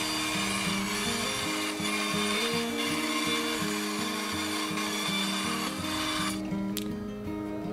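A small band saw whines steadily as it cuts through wood, a continuous buzzing drone with slight pitch shifts, then the cut ends abruptly.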